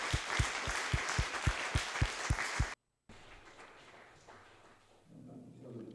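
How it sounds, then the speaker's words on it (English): Audience applause after a talk, steady rhythmic clapping from a group for about three seconds before it cuts off, followed by quiet room noise. "Maybe first an applause for Rick."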